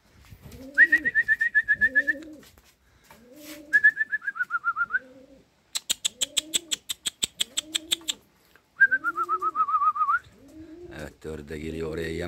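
Young racing pigeons coo in repeated soft, rolling bursts with pauses between them, alongside whistled calls and a quick rattling burst, heard at close range in a home loft setting.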